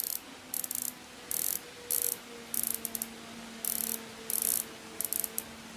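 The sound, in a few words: watch bezel being turned, clicking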